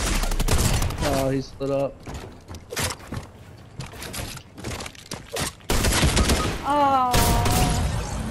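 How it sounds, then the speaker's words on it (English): Shotgun blasts from a new Ranger shotgun in a video game, a few loud sharp bursts scattered among other game sounds, with excited players talking over the action. "He has a new shotgun."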